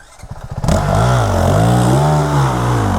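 A Kawasaki KLX300 dirt bike on a muddy trail after a rainstorm chugs in short uneven bursts, then revs hard into a loud, sustained, wavering engine roar, close up.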